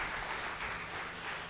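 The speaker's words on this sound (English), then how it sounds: "Probably a big round of applause is required to Kaushik Raju, sir." Brief burst of audience clapping at an award celebration in a hotel venue, dense and steady throughout with no voices over it.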